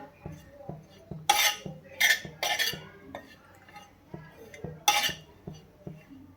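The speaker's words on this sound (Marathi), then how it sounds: "ते आता मी भाजून घेते खोबरं छान लाल होईपर्यंत भाजून घ्यायचं" A utensil scrapes and clinks against a pan while grated coconut is stirred and roasted until reddish, with regular light taps and a few sharper metallic scrapes close by.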